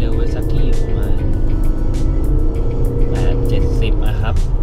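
Interior of a car running on radar cruise control locked near 70 while following a lead vehicle, with a steady close engine and road drone throughout and someone talking over it.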